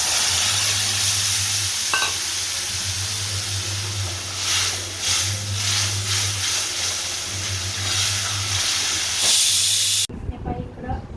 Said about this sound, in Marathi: थोडीशी फ्राय करते आणि काढून टाकते